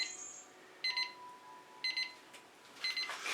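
An electronic timer sounds in bursts of rapid high beeps, three clusters about a second apart, fairly loud against a quiet room, with no one talking.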